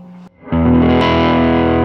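Electric guitar pushed through a germanium fuzz pedal set as a clean boost: a brief quiet note, then a hard strummed chord that sustains thick, loud and gritty until the end.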